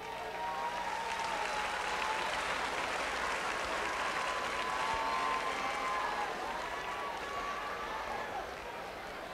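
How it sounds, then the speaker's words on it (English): Sustained applause from a large crowd for a performer at the Apollo in New York City, a dense steady roar of clapping and cheering that barely fades across the whole stretch, with some voices mixed in. "give him a round of applause"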